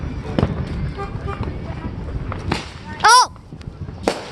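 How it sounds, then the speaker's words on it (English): Fourth of July fireworks going off outdoors: sharp scattered pops and cracks, then a rising whistling rocket and a final bang, with a person exclaiming once. "I know fireworks are popular."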